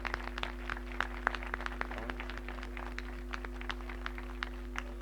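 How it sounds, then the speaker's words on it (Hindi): Audience applause at a mushaira poetry gathering in Tandlianwala, a dense spread of many hands clapping at a steady level over a constant electrical hum, with no voices. "हम सब उसके लिए तालियां बजाएं"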